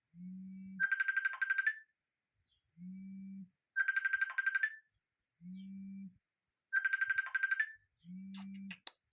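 A phone ringtone plays a repeating melodic pattern, each burst opening with a low tone followed by a bright chiming run, cycling three times.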